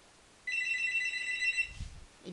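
A telephone rings once more, a bright electronic trill that pulses steadily for over a second against a quiet room, followed by a soft low bump.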